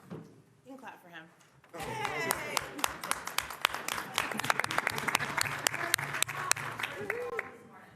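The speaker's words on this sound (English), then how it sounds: "You can clap for him." A room of people at a county board retreat breaks into applause after a brief spoken introduction, a burst of scattered, lively clapping that builds, holds for several seconds and then fades as talking resumes.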